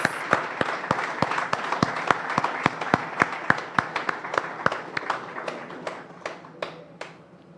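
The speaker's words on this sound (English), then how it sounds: "I think we give her a lusty round of applause." Audience at a hospital accreditation ceremony claps in a round of applause, sharp individual claps standing out over a dense clapping wash that slowly thins out.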